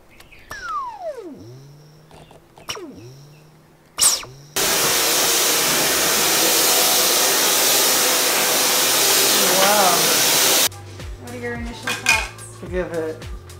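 A Dyson Cyclone V10 cordless vacuum cleaner roars steadily for several seconds, close and loud, after clinks of dishes and cutlery, then cuts off into more kitchen clatter.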